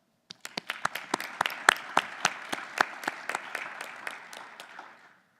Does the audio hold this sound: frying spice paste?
no